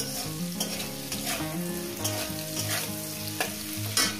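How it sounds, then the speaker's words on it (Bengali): Potatoes fry in a pan with a busy, crackling sizzle and repeated stirring scrapes, close and continuous, while a tonal background hum runs underneath and nobody speaks. "এটা মিনিট 2 ধরে ভেজে নেব"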